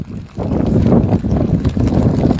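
Strong typhoon wind in Navotas during Typhoon Enteng, a loud continuous roar battering the microphone with gusty rumble and buffeting, no voices, heard up close.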